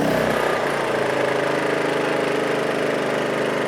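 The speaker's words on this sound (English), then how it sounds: "So that's in the eco mode where it idles real low." A WEN 56203i 2000-watt inverter generator idling low in eco mode after a carburetor cleaning, giving off a steady, even mid-pitched engine drone heard up close without any voices.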